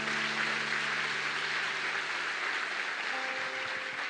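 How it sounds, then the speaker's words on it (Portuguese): A church congregation applauds during a sermon on God's promises, steady dense clapping throughout with faint background tones and no talking. "Dê um aplauso ao Senhor."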